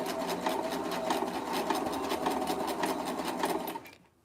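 A sewing machine stitches stretchy lingerie fabric for panties in a fast, even run of close needle strokes lasting a few seconds, then stops abruptly.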